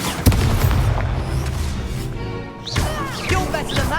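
Expulso spell blasts in the Hogwarts Legacy video game, sharp booming impacts and crashes with a whooshing magical swirl between them, loud and close.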